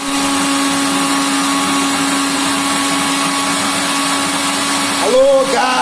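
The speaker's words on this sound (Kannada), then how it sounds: "ನಮ್ಮ ಮಿಕ್ಸಿ ಸ್ಟಾರ್ಟ್ ಆಗುದು ನಮ್ಮ ಮಿಲ್ಕ್ ಶೇಕ್ ರೆಡಿ ಆಗುದು" A mixer grinder whirs steadily while blending a chocolate milkshake, a loud continuous motor drone with a brief voice near the end.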